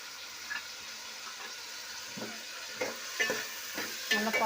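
Small shallots and onions sizzle softly in oil for a Tamil fish curry, with scattered scrapes and taps of a stirring spoon against the pan that grow louder toward the end.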